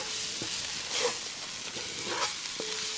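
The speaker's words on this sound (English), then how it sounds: "now we got to stir this constantly until this flour is all absorbed" Beef short ribs braising in a pot as flour is stirred in: a soft, steady sizzle with quiet scraping stir strokes coming every second or so, close and fairly faint, with no voices.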